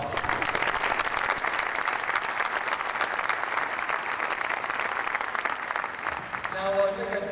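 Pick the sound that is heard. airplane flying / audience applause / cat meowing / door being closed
audience applause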